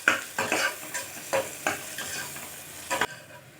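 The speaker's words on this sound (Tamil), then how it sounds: "வெங்காயத்தை ஒரு 2 நிமிஷம் நல்லா வதங்கட்டும் வெங்காயம்" Onions sautéing in a pan for an amaranth-greens pulav sizzle steadily while a spoon stirs them in a few rhythmic scraping strokes, close and fairly loud, ending abruptly.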